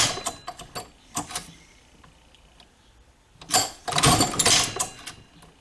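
A sewing machine stitches a leather knife sheath for a fillet knife, with short bursts of rapid mechanical clatter that stop and start before a longer, louder run.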